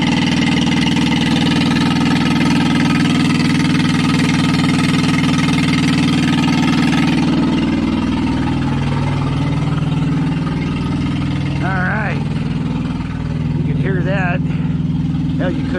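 Thermo King Evolution APU engine on a truck running at a steady idle, a loud continuous drone close by that shifts pitch partway through, with some talk over it.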